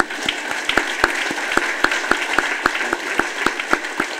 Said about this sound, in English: So let's give them a real round of applause